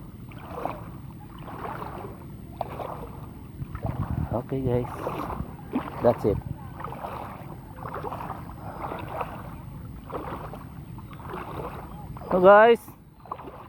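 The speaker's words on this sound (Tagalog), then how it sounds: "Yan ang mga bangka dito." Boats on the water sit under a low, steady rumble with wind and light water noise, while someone talks over it throughout.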